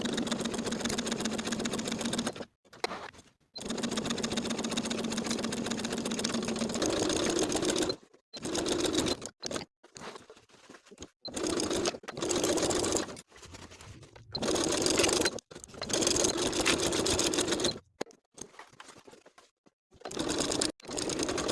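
A sewing machine stitches a lined coat's facing around the neckline and down its straight edge, running in several steady bursts broken by short stops, close and fairly loud.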